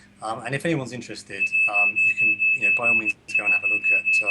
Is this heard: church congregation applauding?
no